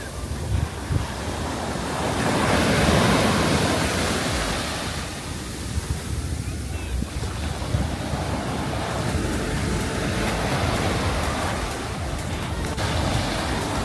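Ocean surf rolls continuously onto an Outer Banks beach, a dense, steady wash of breaking waves with heavy wind buffeting the microphone and no voices.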